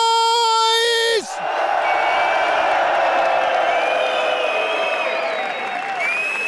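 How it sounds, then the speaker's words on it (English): A packed arena crowd at a PGL Cluj-Napoca esports playoff event erupts after a brief call from the stage, sustaining loud cheering, whoops and applause to the end. "Cluj, make some noise!"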